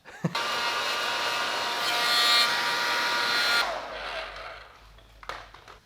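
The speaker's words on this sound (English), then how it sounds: "I got the old lady's hair dryer because I don't have a heat gun" A steady electric whirring hum of a hair dryer, used as a heat gun on heat-shrink tubing while wiring motorcycle turn signals, runs for several seconds close by, then cuts off, followed by a few faint clicks.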